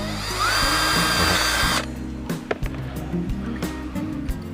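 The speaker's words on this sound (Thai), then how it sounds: "เดี๋ยวผมจะเล่นรูที่เป็นขอบบนนะครับ สปีด 2" A Bosch GSB 180-LI cordless drill whirs steadily at high speed for a couple of seconds drilling a hole, then cuts out, followed by quieter clicks and handling noises.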